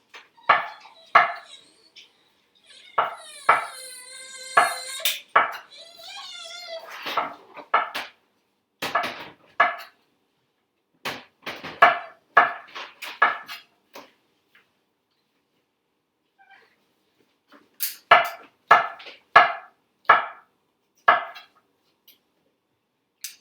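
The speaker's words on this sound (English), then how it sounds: "I'm just cutting it into slices." Knife slicing mushrooms and their stems on a cutting board: crisp, irregular chopping taps in clusters at close range, with a long quiet gap partway through.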